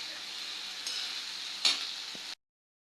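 Okra sizzles steadily as it fries in a pan, with a brief louder burst of stirring near the middle before the sound cuts off abruptly; no talking.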